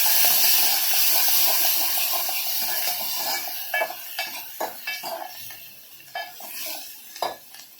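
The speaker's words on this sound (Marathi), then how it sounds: "आता आपण याच्यामध्ये कांदा टोमॅटो टाकून घेऊया आधी कांदा लालसर होईपर्यंत भाजायचा आहे" Onion and tomato fry in hot oil in a pan for a drumstick (shevga) amti, a steady sizzle running throughout with a series of sharp scraping stirs and clinks of a spoon against the pan growing more prominent later on.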